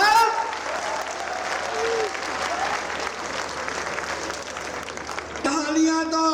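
Audience applause fills a comic poetry recital at the Misrikh fair festival, a dense, steady clapping that continues for several seconds, with voices rising over it near the end.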